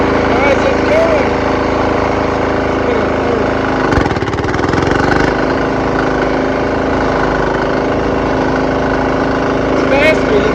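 A cheap Amazon diesel engine runs flat out at wide-open throttle with a steady, loud droning rattle and rich harmonic hum that holds for the whole stretch, with one brief dip midway.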